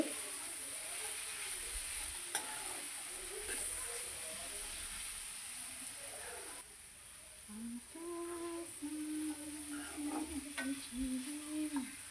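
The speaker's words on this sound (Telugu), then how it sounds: "చిక్కుడే ముక్కలు బాగా నూనెలో వేగాలండి" Broad bean pieces frying in oil with salt and turmeric, a steady sizzle with scraping stirs in a pan throughout, fairly close; brief unclear sounds or a faint voice appear later.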